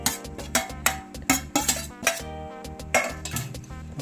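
Cooked tapioca is mashed and mixed in a pot, a rhythmic run of close metal clanks and scrapes from a utensil against the pot, roughly twice a second, with no talk.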